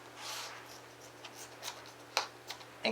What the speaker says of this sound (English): all you do is take a pair of scissors